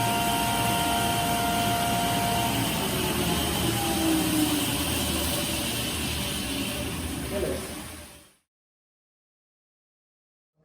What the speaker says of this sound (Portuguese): A turbina está livre e o gerador também está girando livre